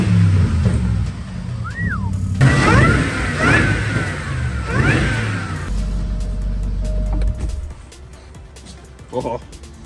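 A tuned Jaguar super sedan running without its catalytic converters is started and revved in bursts, its engine surging and settling several times, with people talking nearby.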